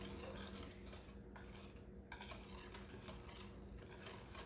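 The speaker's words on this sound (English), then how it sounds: "I want to stir it up. This would be easier if I had a whisk." Whisk stirring a gingerbread ice cream mixture in a bowl, a continuous close scraping and swishing texture, steady and alone without talking.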